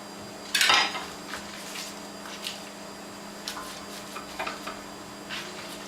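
Chunks of sliced carrot tumbling into a pan while cooking: one quick clattering drop, followed by a few light, scattered clicks and taps, close and fairly quiet with no talking.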